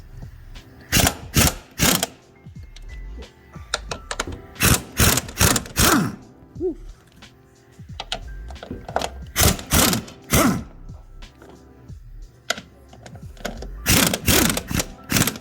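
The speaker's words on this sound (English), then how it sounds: "we're just gonna keep on continuing to unscrew that" A ratchet clicks in quick repeated bursts while loosening the top strut bolts on a 10th gen Honda Civic, loud and close, with short pauses between bursts.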